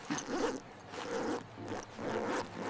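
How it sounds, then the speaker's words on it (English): A clothing zipper is drawn in short rasping pulls, several quick bursts with brief pauses between, close and fairly quiet with no voices. "This zipper is tricky."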